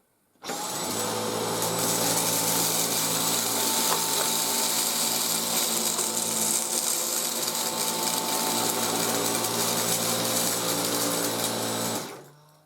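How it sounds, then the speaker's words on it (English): A Dyson V10 Total Clean cordless vacuum switches on at its lowest suction mode and runs as a steady, high whining hum with a faint rattling texture for about twelve seconds, then cuts off. No voices are heard. "I'll start on mode 1, which is the lowest suction setting. So here we go with one pass"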